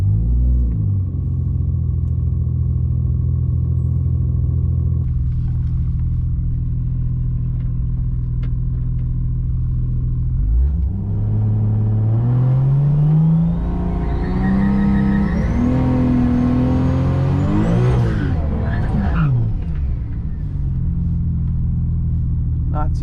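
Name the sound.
Toyota Supra launching and racing at drag strip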